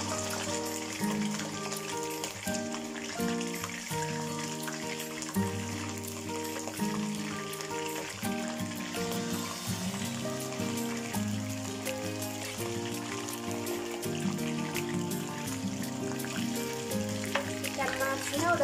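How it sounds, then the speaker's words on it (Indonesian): Carp pieces fry half-cooked in hot oil with a steady, close sizzle that runs the whole time beneath layered background music. "kita goreng ikan masnya setengah matang dulu"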